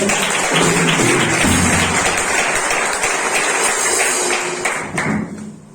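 A church congregation applauds loudly at a sermon, dense sustained clapping throughout before it thins out near the end.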